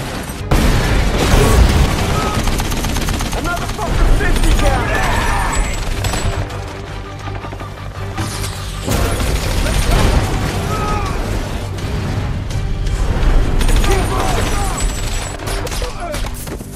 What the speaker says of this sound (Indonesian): Untuk memulai kekacauan di sana, Case melemparkan api ke arah kendaraan yang terdapat tumpahan minyak sehingga ledakan pun terjadi.